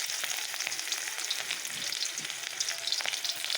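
Chopped onion sizzles in a hot wok with bay leaves, a steady crackling fry with bright bursts of spatter, close and continuous, with no voices.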